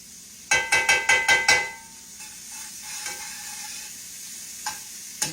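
A few sharp metallic clanks of a utensil against a pan, then a soft, steady sizzle of hashbrown potatoes and mushrooms frying in butter, close by with occasional faint taps.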